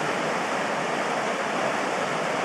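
Steady, dense rush of a flowing stream, loud and continuous throughout with no break, heard close by and alone.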